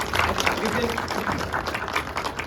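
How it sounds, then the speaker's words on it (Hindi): An audience at a conversation with a Hollywood producer breaks into a dense, continuous round of clapping, steady and fairly close, with a voice faintly mixed in. "जोरदार तालियां हो जाए यार"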